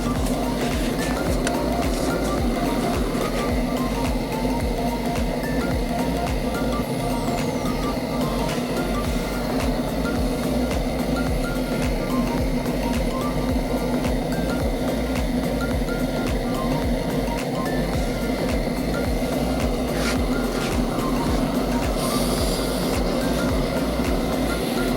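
A homemade metal foundry burner, turned up to higher pressure around a crucible, roars in a loud, unbroken broadband rush that holds steady throughout with no pauses.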